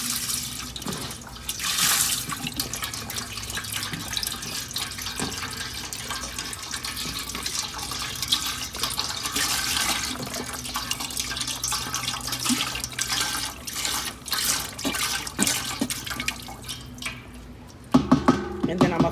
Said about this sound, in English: I'm going to go ahead and open my chicken broth. And I'm going to add that to my pot